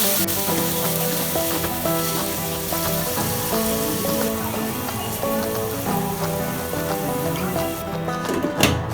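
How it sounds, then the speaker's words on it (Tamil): Mutton keema frying in a little oil in a pan, giving a steady, fairly loud sizzle with crackling throughout, close by and without any talk. "ஒரு பேனில் கொஞ்சமாக எண்ணெய் விட்டு நம்ம எடுத்து வச்சிருக்கிற இந்த மட்டன் கீமாவை சேர்த்துட்டு அதை நல்லா வறுத்துக்கலாம்."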